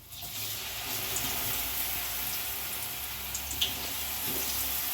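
Finger chips (fries) hit hot oil and fry, a dense, even, loud sizzle that rises quickly and holds steady throughout with a few small pops.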